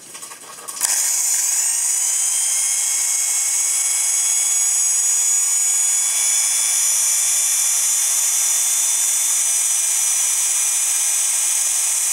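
A Japanese-market 100V handheld electric drill with a side handle, a keyed chuck and a reverse switch starts up and runs steadily at a high, whining pitch, loud and continuous.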